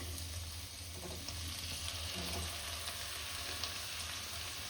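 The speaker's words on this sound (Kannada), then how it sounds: "ಹಿಂಗಾಗಿ ಇವಾಗ ಲೈಟಾಗಿ ಇದನ್ನು ಫ್ರೈ ಮಾಡಬೇಕು." Chopped green chillies fry in a pan for a Kannada-style palya, giving a steady close sizzle with light stirring and faint watery clatter throughout, no talk.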